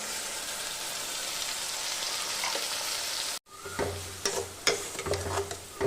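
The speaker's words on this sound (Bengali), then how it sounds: "ভালো করে পোস্তর সাথে এটাকে কষিয়ে নেব" Poppy seed paste stir-fries with potato and drumstick in a pan, opening with a dense rain-like sizzle, then a brief cut, followed by quieter frying with repeated clanks and scrapes of stirring.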